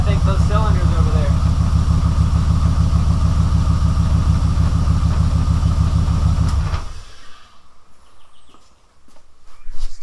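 A buggy on a Bent Fabrication chassis idles roughly with two cylinders missing, a loud uneven pulsing chug that runs steadily before cutting off abruptly, leaving quiet shuffling and a faint voice.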